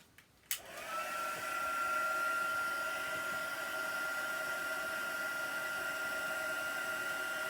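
A handheld hair dryer blows on chalk paste spread over a Dollar Tree frame. It starts with a click and becomes a steady, loud, continuous whooshing whir that holds evenly to the end with no voices.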